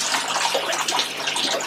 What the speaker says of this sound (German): Vorsichtig das Wasser rauslaufen lassen.